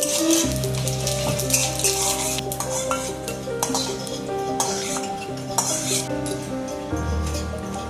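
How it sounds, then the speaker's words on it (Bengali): Pumpkin and cumin frying in a pan for a Bengali pumpkin-prawn dish, a steady close sizzle under repeated stirring scrapes and occasional metal clinks, with a low tonal hum in the background throughout. "আগেতে এটা ভালো করে ভেজে নেবে"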